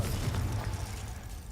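A Confringo fire spell bursts in Hogwarts Legacy, a muffled low explosive boom that rumbles briefly and fades, with no talk.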